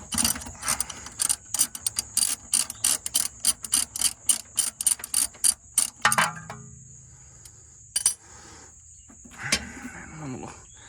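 A ratcheting wrench works the 18 mm top bolt of a Volvo 240 rear shock absorber, giving a rapid series of crisp clicking strokes, then sparse metallic clinks and handling noises.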